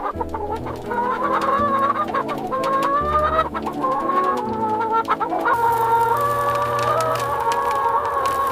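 Chickens cluck densely inside a free-range coop, many overlapping calls near and loud with a rooster-like crow rising among them, no talking.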